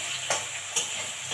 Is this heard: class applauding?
no